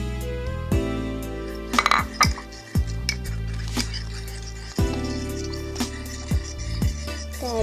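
Homemade slime stirred in a bowl, producing irregular clinks, scrapes and squishy knocks against the bowl's sides, close and moderately loud.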